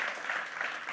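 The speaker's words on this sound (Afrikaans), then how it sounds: "Kan ons net vir die Here 'n hande klap gee?" Brief burst of congregational hand clapping in a church, dense and steady, a fairly quiet wash of many hands with no voices over it.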